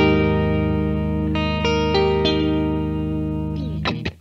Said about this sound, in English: Here's what it sounds like with all three pickups on.